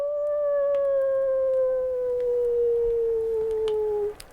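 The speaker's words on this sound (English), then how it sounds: "You all hear a distant howl." A single long wolf howl, a sustained, slowly falling tone lasting about four seconds, played as a sound effect during a tabletop role-playing game, steady and clear with faint background hiss and no talking.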